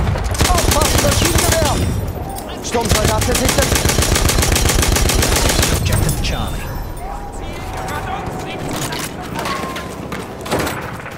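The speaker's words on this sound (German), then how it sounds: "Feindliches MG! Ein Maschinengewehr!" Enemy machine gun fire in a World War I shooter on the Amiens map, a loud sustained rattling burst with short gaps, then a thinner spell with shouted voices among crashes and a late thump.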